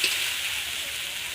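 Onions stirred together with cumin paste in a frying pan give off a steady, close hiss of sizzling oil that holds at an even level for a moment, with no voices.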